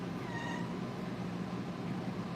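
A cat meows faintly in a quiet indoor room, a couple of short rising cries early on over steady low background hum.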